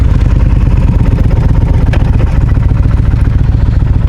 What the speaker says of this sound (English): let's get on the bike and start riding